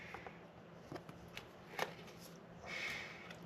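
Trading cards and a foil pack wrapper are handled quietly up close, with soft rustling, flicking and a crinkle of plastic near the end, without any talk.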